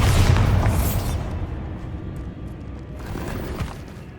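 A Bombarda spell blast in Hogwarts Legacy on PS5, one loud booming explosion at the start that rolls off into a long rumbling decay, followed by quieter debris crackle and a later softer burst.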